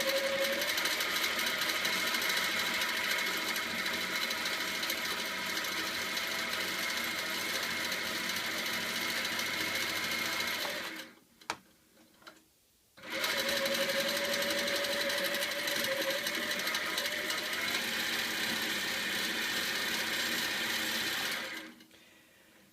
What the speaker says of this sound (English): It's actually quite good to have the machine going fairly fast so you get lots of stitches.